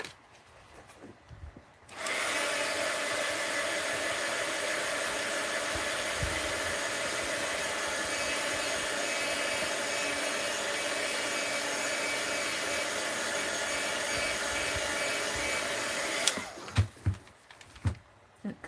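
Heat tool blowing hot air to dry paint on an art journal page, a steady whirring hiss that switches on abruptly, runs evenly for about fourteen seconds, then cuts off, with brief handling noises before and after.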